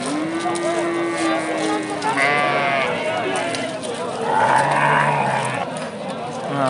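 Hisori sheep and lambs bleat at a busy livestock market in Regar, with loud, drawn-out calls rising over a constant crowd murmur and nearby voices.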